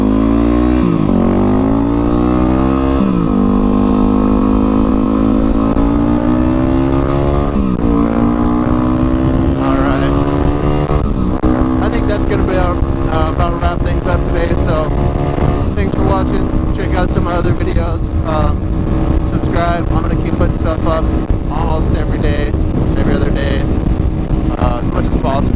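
A Yamaha WR250R supermoto motorcycle on supermoto tires revs hard and climbs through the gears, its engine note rising in repeated sweeps, loud and close, with a steady ride rumble underneath.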